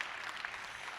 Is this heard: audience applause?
yes